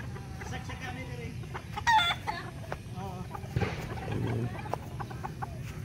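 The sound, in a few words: chickens clucking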